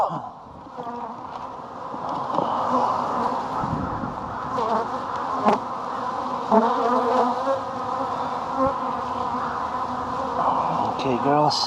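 Honeybees in an open hive during a pre-spring inspection give a dense, steady buzzing hum, close and loud, that continues throughout.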